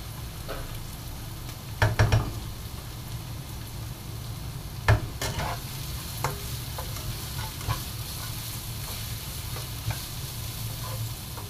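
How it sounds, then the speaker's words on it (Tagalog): Garlic sizzling in a hot frying pan, a steady close hiss of frying oil with a few clatters and scrapes of a stirring utensil against the pan, no talk. "Saka naman ilalagay ang ating bawang."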